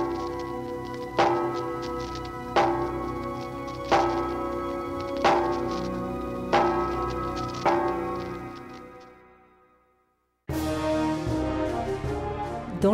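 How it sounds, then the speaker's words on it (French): The Liberty Bell rings on a radio broadcast in Philadelphia, six struck tolls at an even, slow pace. Each one rings out and decays into a long fade to silence before a different sound abruptly starts. "WIP diffuse les 7 coups sonnés par la cloche de la liberté"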